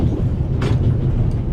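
A train rolls along in the video game The Raven with a continuous low rumble and a faint rhythmic clatter. It stays steady and fairly loud, with a brief hiss in the middle and no speech.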